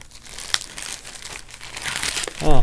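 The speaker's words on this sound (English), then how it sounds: "the tape on the plastic bag opens rather easily" A taped plastic bag is opened by hand at close range, giving irregular crinkling and rustling that builds toward a louder burst at the end.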